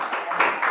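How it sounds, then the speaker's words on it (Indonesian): A seated audience at a teachers' workshop on differentiated Islamic religious education lessons claps briefly, a quick patter of hands that lasts under a second. "tepuk tangan dulu untuk Pak Fakih yang luar biasa sudah menghasilkan karya"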